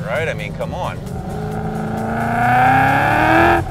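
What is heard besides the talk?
supercharged 2015 Ford Mustang GT accelerating hard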